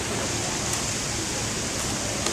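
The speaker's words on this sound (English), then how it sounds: "it starts raining" Steady rain pours down outdoors on an island, a dense, even hiss that holds at the same level throughout with no voices over it.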